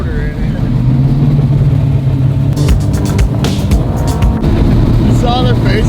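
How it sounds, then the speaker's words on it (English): A car fitted with a NASCAR motor rumbles and revs steadily from inside the cabin, the loud engine drone running throughout while people talk over it and sharp clicks and knocks sound midway. "Sounds like one of them NASCARs"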